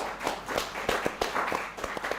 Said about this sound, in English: Kindly give a round of applause to our panel members